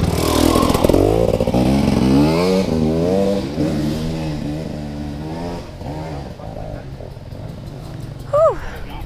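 A worn, overheating KTM two-stroke dirt bike revs on a forest trail in Wayne National Forest, its loud, close engine rising and falling in pitch through repeated throttle blips before easing off toward the end.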